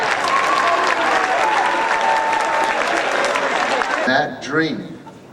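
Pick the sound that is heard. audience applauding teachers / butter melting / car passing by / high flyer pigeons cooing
audience applauding teachers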